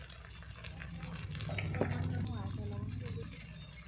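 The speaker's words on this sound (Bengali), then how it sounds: "পেঁয়াজটা লাল লাল করে ভেজে নিয়ে দিয়ে দিলাম আদা রসুন বাটা জিরা বাটা" Onion fried until reddish with ginger-garlic, cumin and chili paste sizzles steadily in a pan, a low continuous frying hiss with faint stirring scrapes, in a home kitchen with quiet voice-like tones in the background.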